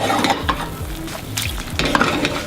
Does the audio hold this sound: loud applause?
no